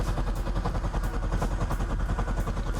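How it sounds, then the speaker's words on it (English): A C6 Corvette engine cranks over on the starter in lube mode without firing, a steady rapid mechanical churning that stays even and close for the whole stretch. "I'm gonna activate lube mode so the car just turns over but does not actually start up"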